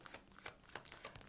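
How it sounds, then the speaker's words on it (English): A deck of tarot cards being shuffled up close, a steady run of crisp riffling and slapping card sounds with no talking. "we'll start just shuffling all the cards before all my videos"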